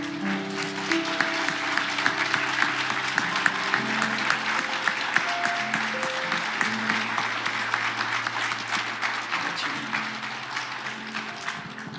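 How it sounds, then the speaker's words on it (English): At a memorial service celebrating a life, a large crowd gives a standing ovation. Warm, sustained applause from many people fills the room steadily, and a few faint voices and a soft organ-like tone sit underneath. "Would you give that man a standing ovation for a life well done?"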